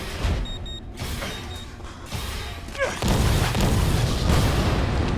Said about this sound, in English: let's not stand next to the explosion.